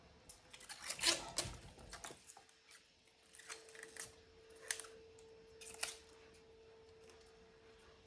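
Collard green leaves ripped by hand while being cleaned after soaking in water, giving a few crisp tearing and rustling bursts near the start and then sparse quieter rips, with no talking.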